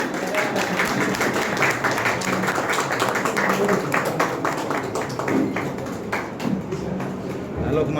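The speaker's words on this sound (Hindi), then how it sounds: "चलिए जोरदार ताली होनी चाहिए" A crowd at a Jharkhand Pradesh Congress meeting claps loudly and continuously, with sharp overlapping hand claps sustained for eight seconds that ease slightly toward the end.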